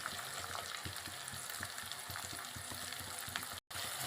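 Pav bhaji with green garlic frying in a pan while it is stirred, a continuous faint sizzle with soft scraping, close but quiet, with a brief dropout near the end.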